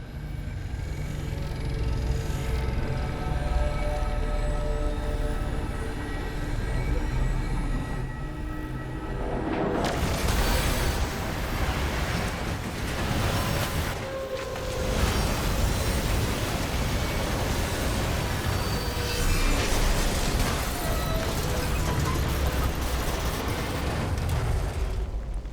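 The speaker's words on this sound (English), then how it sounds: "I've seen primitive trains like this in old ruins." A primitive train passing in the video game Destiny 2, a loud continuous rumbling roar that swells into a heavier, dense clatter midway and stays strong throughout, with no talk.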